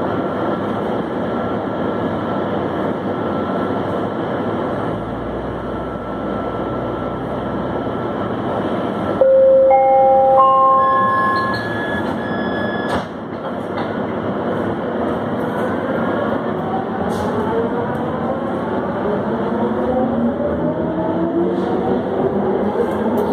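Wisconsin Central and Union Pacific train rumbling steadily through a long pass, with a brief rising whistle-like tone partway through and continuous rail noise throughout.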